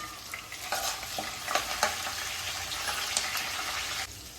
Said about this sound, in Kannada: ಕರಿಬೇವು ಹಾಕ್ತಾಯಿದ್ದೀನಿ ಹಾಕಿ ಒಂದ್ಸರಿ ಚೆನ್ನಾಗಿ ಮಿಕ್ಸ್ ಮಾಡೋಣ